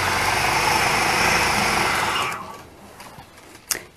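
A sewing machine stitches rapidly while machine quilting, a steady loud whirring run that stops after about two seconds, followed by a few faint handling clicks and one sharp tap.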